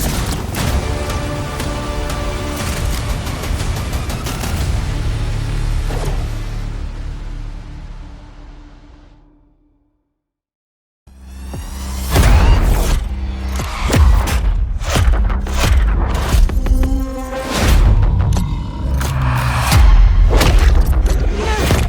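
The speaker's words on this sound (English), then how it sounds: "We sure cause a lot of explosions." Heavy booming explosions and thuds over a dense sci-fi RPG video game soundtrack, a brief fade to silence, then a new burst of loud impacts and blasts.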